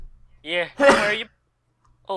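A single sharp sneeze bursts out between snatches of talk during a Minecraft capture-the-flag game, loud and close, followed by a moment of quiet.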